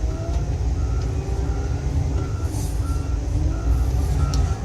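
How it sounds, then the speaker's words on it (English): A truck backs up at a crusher site, its backup alarm sounding a steady run of evenly spaced beeps over the loud, continuous rumble of heavy machinery and engine noise. "We got a truck backing up behind me here."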